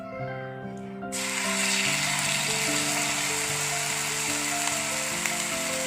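Egg masala omelette mixture hitting hot oil on a dosa pan, bursting into a loud, steady close sizzle that continues unbroken, with a faint background hum underneath.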